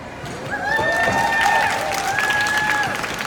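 Crowd applause and cheering from an audience at a dance performance in Ala Moana Center, a shopping mall, sustained and fairly loud with whistles or shouts rising over the clapping.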